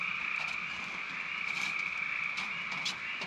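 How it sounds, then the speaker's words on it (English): A dense chorus of frogs croaks outdoors at a trout-fishing campsite, a continuous loud trilling drone with scattered bird calls layered over it. "We've got a chorus going on out here with the frogs and the birds."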